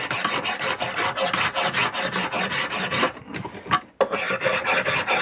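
A spokeshave shapes a green wood chair stretcher spindle for a Sussex chair, making close, rhythmic rasping strokes that pause briefly before the scraping resumes.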